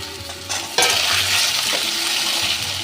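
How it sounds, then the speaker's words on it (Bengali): Small cut pieces of potato and carrot frying in oil in a pan for a spinach curry, a loud close sizzle that swells as the pieces are stirred and scraped around. "আলু আর গাজরটা অল্প ভাজা হয়ে গেছে"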